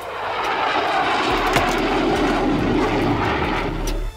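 A T-50 twin-seat supersonic jet with a single General Electric F404 engine roars past, a loud, broad and continuous engine noise that swells slightly and then holds steady.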